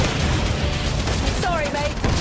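Video game gunfire crackles in a dense, continuous burst across the clip, mixed with a busy game soundtrack and a voice speaking over it.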